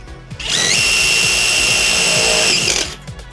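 A Stanley impact driver fitted with a bit runs in one steady, loud, high-pitched whir of about two seconds, starting and stopping cleanly, with no talk over it.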